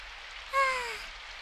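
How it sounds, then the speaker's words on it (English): Steady, even rain hisses in the background of the visual novel Symphonic Rain while a short descending sigh-like tone rises briefly above it and fades. "that silence was soon drowned out by the sound of the rain."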